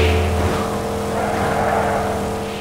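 A race car engine in the racing game Midnight Club LA gives a steady, loud droning rumble with a low hum throughout, fitted with a blower that seems to be malfunctioning.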